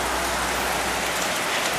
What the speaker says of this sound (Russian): Весь день льет дождь